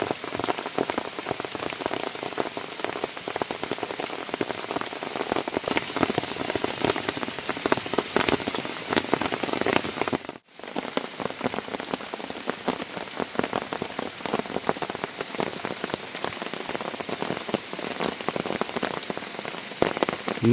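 Heavy rain pours steadily through a mountain forest, a dense, continuous hiss of drops hitting leaves and ground that stays loud and unbroken for the whole stretch, with only a momentary dip partway through.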